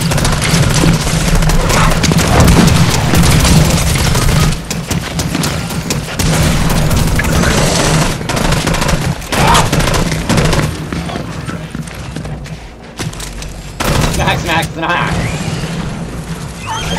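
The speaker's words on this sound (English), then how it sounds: "That was a lot of shooting." Dense, sustained gunfire and booms from a Fortnite match fill the stretch, near and loud, with rapid bursts and crashes layered under occasional voices talking.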